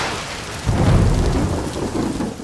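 Heavy rain pours down in a steady roar while a deep rumble of thunder swells in and rolls on for about a second, loud and close.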